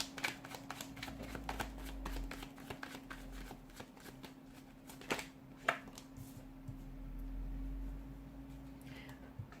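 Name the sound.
shuffling tarot cards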